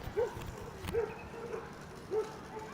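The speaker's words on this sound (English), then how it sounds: "there's a dog freak out over there" A dog barks a few times at a distance on a Toronto street, sharp yelps spaced about a second apart over low outdoor ambience.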